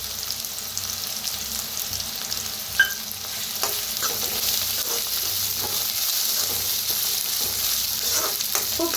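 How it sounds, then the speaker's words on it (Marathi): Ground paste of green chilli, peanut and garlic fries in a pan for buttermilk pithla, a steady close sizzle broken by light stirring clicks and scrapes. "आता हिरवी मिरची, शेंगदाणा, लसूण वाटून घेतलं होता ते बी भाजूया।"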